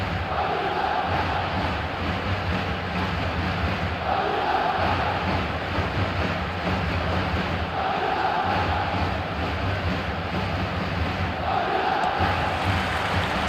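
A stadium crowd in the eFootball video game roars and chants on match day, a broad steady swell of voices with rhythmic surges rising and falling throughout.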